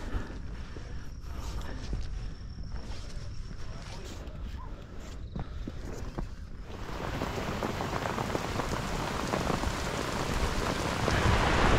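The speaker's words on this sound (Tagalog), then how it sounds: "Ito, lumalakas na mga behero. Lakas na ng ulan." Heavy rain pouring on a mountain campsite in La Trinidad, Benguet, with drops drumming on surfaces and a hut roof, growing steadily louder and denser toward the end.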